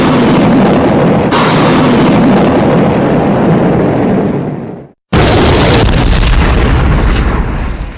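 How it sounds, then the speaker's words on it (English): A nuclear missile blast in a Roblox game, FE2's Decaying Silo map: a loud, sustained roaring explosion that cuts to a brief silence, then a second blast erupts and rumbles on. "Hey, Brad, test the nuclear missile, please"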